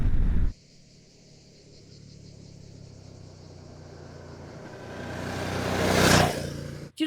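A Suzuki SV-7 GX motorcycle engine idles with a steady low rumble, then revs up into a loud rising roar that peaks and falls away before cutting off abruptly.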